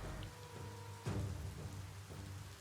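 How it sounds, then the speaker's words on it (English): Rain begins falling in the video game Biomutant, a soft, faint patter of drops over a low rumble with a brief louder splash near the middle, alone with no speech. "Oh, I made it rain apparently."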